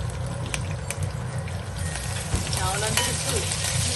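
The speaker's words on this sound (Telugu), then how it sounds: "ఉల్లిపాయ ముక్కల్ని తిప్పండి" Onion pieces frying in oil in a pan for a dry fish and ridge gourd curry, giving a continuous soft sizzle with scraping stirs and faint clinks, fairly quiet and close.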